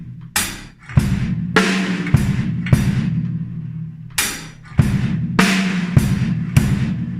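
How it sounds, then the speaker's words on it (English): Drum kit beat from a song: hi-hat strokes with bass drum hits on the and of four and on beat one, giving a pair of kicks then a single, repeating in a steady pattern with no talk. "you want to do the bass drum on the and of 4 and then the bass drum on beat 1,"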